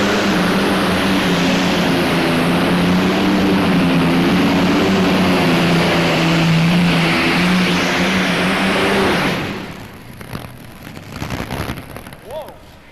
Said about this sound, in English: Allison Aircraft Engines, folks. 2 V12 Allisons, 6 cylinders on each side.